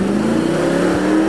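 An AMG 63 with 475 horsepower revs its engine, a loud, steady rising drone that fills the whole moment with a continuous tonal growl and no talking.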